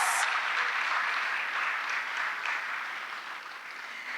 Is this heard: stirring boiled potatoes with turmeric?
no